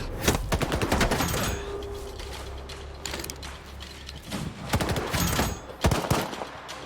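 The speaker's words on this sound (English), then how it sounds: "Why are they shooting at us?" Bursts of gunfire in the shooter S.T.A.L.K.E.R. 2, sharp cracks and rattling volleys coming in clusters with mechanical clatter between them, loud and close throughout.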